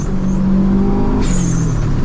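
A built 470-horsepower Subaru Impreza STI with a turbocharged four-wheel-drive engine pulls hard on high boost, its loud, steady engine drone heard from inside the car and shifting pitch about halfway through.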